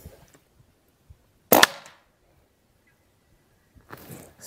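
One sharp, loud report from a Rossi Outlander single-shot shotgun firing a slug, heard close up in otherwise quiet surroundings, followed by a softer rustle a couple of seconds later.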